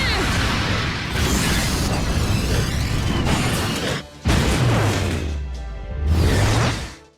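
A video game Noble Phantasm attack plays out loud and dense, with whooshing, mechanical clanks and bursts, then ends in a deep swelling vacuum-like suction sound that rises twice near the finish.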